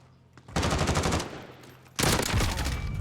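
Two loud, close bursts of rapid automatic gunfire in Call of Duty Warzone, each lasting about a second, separated by a short quiet gap.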